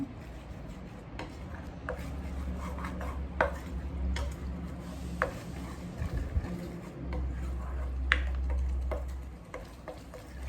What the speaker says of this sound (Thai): คนให้พริก กับกะทิเข้ากันนะคะ